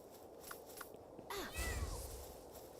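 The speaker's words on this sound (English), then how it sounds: "Meow! Protect me, kitty." Cat meow from the video game Palworld, a single faint drawn-out call over a low background hum, with a couple of soft clicks before it and no speech.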